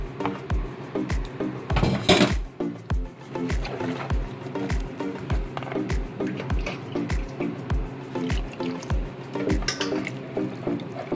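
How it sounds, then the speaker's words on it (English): A whisk beats sweet potato pudding batter for a Jamaican-style pudding in a bowl as liquid is gradually added, giving a steady rhythmic clatter of regular strokes with wet splashy sounds, close and fairly loud, and no voices. "You gradually put the liquid in and you just whisk."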